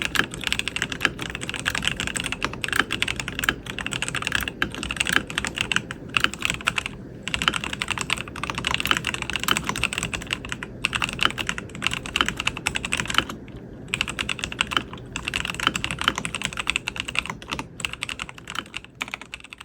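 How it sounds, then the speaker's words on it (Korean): Fast, continuous clacking of a mechanical keyboard, keys struck in quick bursts with brief pauses, close and clear. "먼저 타건 소리부터 듣고 가실까요?"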